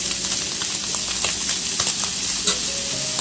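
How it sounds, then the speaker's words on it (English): Chopped onion hits a pan greased with leftover fat from cooking vegetables and sizzles and crackles steadily up close, a dense frying hiss with small pops throughout. "Gonna throw in the onion."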